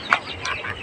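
Hens with chicks give a few quick, soft clucks close by, brief and unaccompanied by talk.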